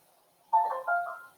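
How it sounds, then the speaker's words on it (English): A phone rings once with a short electronic tone during a remote government oversight meeting, clear and fairly loud against near silence, holding for under a second. "Somebody's phone's ringing."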